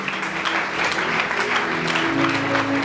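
A church congregation applauds and cheers in a steady, dense wash of clapping that holds throughout, with voices mixed into the crowd noise.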